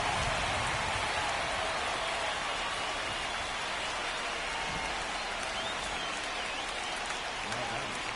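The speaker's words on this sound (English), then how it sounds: "This rain is not letting up." Heavy rain pours down over a baseball stadium in a video game, a dense, even roar of falling water that holds steady throughout, with a faint crowd murmur beneath.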